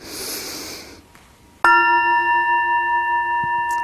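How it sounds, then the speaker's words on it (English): A meditation bell is struck once during a sangha gathering, ringing loud and close with a clear, steady tone that sustains and slowly fades, after a moment of soft breathy noise. "May the sounds of this bell penetrate deeply into the cosmos."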